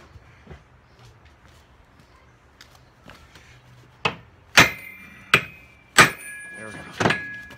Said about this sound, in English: I'm gonna get a hammer and give it a whack.